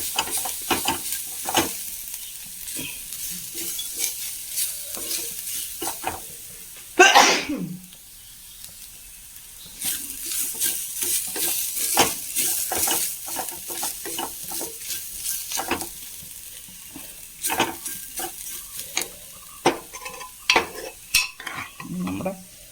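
Coconut and cooked horse gram are stirred into food in a pan, giving scraping spoon strokes and a soft sizzle that carry on throughout, with one sharp louder burst near the middle.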